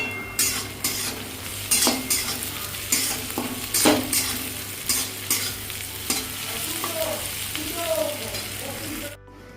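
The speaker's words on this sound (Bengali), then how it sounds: "পেঁয়াজটাকে আমি লাল করে ভেজে নিচ্ছি" Onions browning in a hot pan, a continuous sizzle broken by repeated scraping stirs of a spatula against the metal, close and moderately loud, with no voices.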